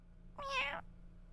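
A cartoon cat from a South Park episode gives a single clear meow, about half a second long, rising then falling, heard alone over a low hum.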